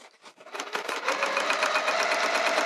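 Sewing machine stitching the edges of a cork wrist pouch: a few short starts, then a steady, close, continuous run of rapid needle strokes with no talking.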